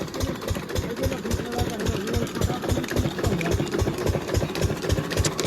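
A field irrigation engine chugs in a fast, steady rhythm nearby, running alone without voices.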